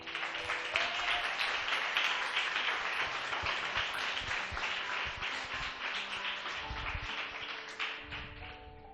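A church congregation applauds with sustained, dense clapping that fills the room, steady and fairly loud throughout before tapering slightly at the end.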